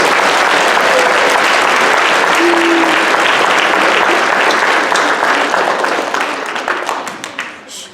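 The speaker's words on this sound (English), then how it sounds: "How about a big round of applause for all our teachers and paras?" Sustained crowd applause for the teachers and paraprofessionals at an evening school songwriting concert, a dense wash of many hands clapping that tapers off toward the end.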